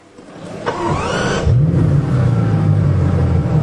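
A Bugatti Chiron Pur Sport engine cranks and fires up, settling into a loud, steady idle with a deep, throaty rumble.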